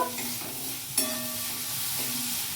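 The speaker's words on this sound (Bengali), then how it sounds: "এবার আমি ভালো করে এগুলো একটু নাড়াচাড়া করে নেব" A pan of spiced samosa filling with cabbage and ground spices sizzles while being stirred, one sharp scrape near the start, then a steady frying hiss continuing to the end, close and moderately loud.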